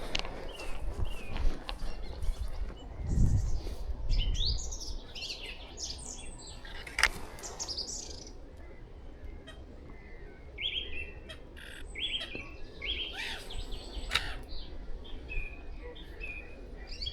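Small birds chirp and tweet in short bright bursts through an early-morning outdoor scene, several calls scattered near and far over quiet ambience, with a low thump early on.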